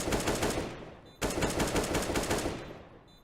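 Counter-Strike gunfire on the Nuke map aimed at shooting through a wall, loud rapid automatic bursts close by, a brief break near the middle, then a second sustained burst that fades at the end.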